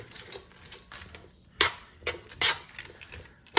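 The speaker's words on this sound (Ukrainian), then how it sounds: "І все перемішуємо." Irregular clinks and scrapes of a utensil stirring a salad with croutons and mayonnaise in a bowl, a series of short bright knocks with a few louder strikes, close by and without speech.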